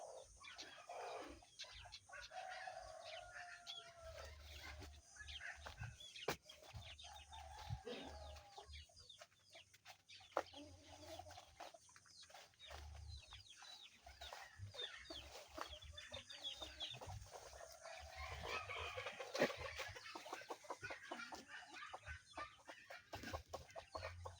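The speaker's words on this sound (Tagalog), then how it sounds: "May manok pala si mama dito ng grabe tol." Several egg-laying hens cluck and murmur nearby, with scattered squawks and occasional wing flaps over a quiet background.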